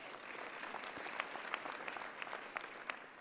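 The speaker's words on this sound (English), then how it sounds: "A round of applause." Audience at a graduation ceremony breaks into steady, sustained applause, a dense wash of many hands clapping with sharper individual claps popping out throughout.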